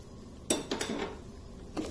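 Semolina, grated coconut and cashews are stirred and roasted together in a pan, with a few sharp metallic clinks and scrapes of a spoon against the pan, close by and with no talking.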